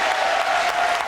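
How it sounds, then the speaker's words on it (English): A crowd outside Sacred Heart Church in McAllen, Texas, on the U.S.-Mexico border cheers and applauds as Pope Francis appears, a dense, steady wash of clapping and voices, loud and close, with no single speaker standing out. "The crowd erupting into cheers when they see the Pope."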